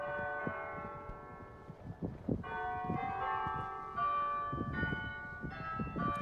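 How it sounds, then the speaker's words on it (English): Georgetown College church bells ring out in overlapping peals, several bells sounding together in a steady clangorous rhythm, fairly close and loud with no talking. "This is Georgetown College ringing their bells."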